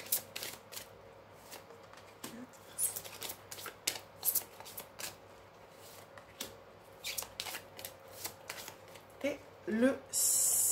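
Playing cards being dealt one at a time into piles on a table, soft papery slaps and flicks in an uneven rhythm, close and fairly quiet, with someone speaking French throughout.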